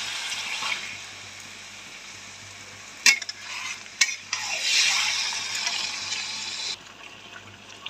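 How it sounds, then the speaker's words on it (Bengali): Goat meat (mutton) fries and is stirred in hot oil, a steady close sizzle with scraping spoon strokes and a couple of sharp knocks against the pan, no voices. "আমি এখন এর উপরে মাংসটা দিয়ে দেবো, খাসির মাংসটা দিয়ে দিলাম। এখন ভালোভাবে কষানো হবে।"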